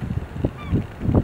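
Herring gulls and ring-billed gulls at the mouth of Northeast Creek on an incoming tide, with several short nasal calls and honking cries from the flock, some closer and some farther off.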